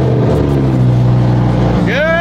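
Lamborghini engine starting cold, a deep steady rumble that holds near and loud, then a rising whine sweeps upward near the end, with a voice talking over it.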